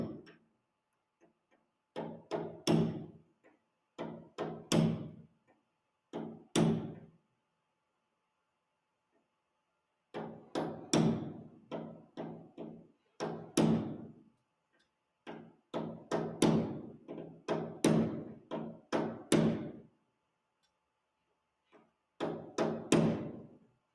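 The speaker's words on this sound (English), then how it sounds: "With a hammer punch, tap it the rest of the way until it protrudes equally at both ends." A hammer taps a roll pin in through a punch on a Talon A600 tail rotor drive, a quiet series of sharp metallic taps in short bursts separated by pauses, with no speech.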